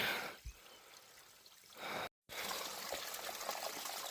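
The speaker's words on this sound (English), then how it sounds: "This is running water." Running water of a small mountain stream near Runners Peak in Seymour Provincial Park, a steady close hiss and trickle with a brief cut partway through.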